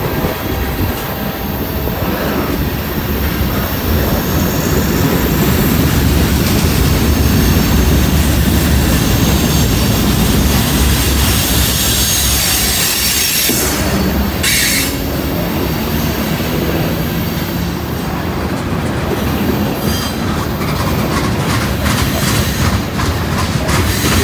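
Norfolk Southern freight train running south on a cold, breezy day, a loud continuous roar of wheels and cars close by with squealing and clickety-clack throughout.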